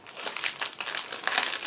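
A plastic bag of vinyl tires for a 1/35 scale ICM Typ L3000S model kit crinkles and rustles steadily for about two seconds as it is opened, close and fairly loud, with no talking.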